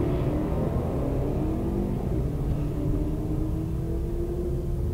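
Drag race cars, a Chevelle against a Maverick, launch hard from the starting line with a loud, steady engine roar that holds thick and rumbling throughout, with no commentary audible over it.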